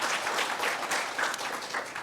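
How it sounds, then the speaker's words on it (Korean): Applause from a church congregation during Sunday worship, a dense, steady roar of many hands clapping for about two seconds, with no voices over it. "장로님 참 반갑습니다, 환영합니다 하는 마음으로 저희 박수하겠습니다"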